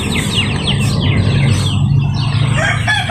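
Chickens cluck and a rooster crows on a Filipino native chicken farm with breeding birds and chicks, the calls overlapping in a busy, steady barnyard din with no talking.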